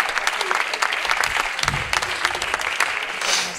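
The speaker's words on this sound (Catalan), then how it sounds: "Un altre aplaudiment per ell" Audience applause at an elastic-band stage performance, a dense steady patter of many hands clapping close by for several seconds, with brief voices mixed in.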